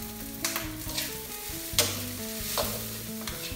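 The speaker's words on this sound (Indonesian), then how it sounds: "Aduk hingga merata." A spatula stirs vegan fried rice in a hot pan, with a steady sizzle broken by several sharp scraping and clanking strokes at an uneven rhythm, close and fairly loud, no talking.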